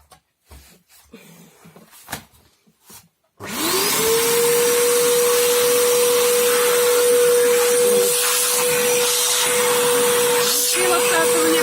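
An Arnica Damla Plus water-filter vacuum cleaner starts after a few seconds of quiet handling clicks, rising into a loud, steady whine with a sustained tone that runs unbroken to the end.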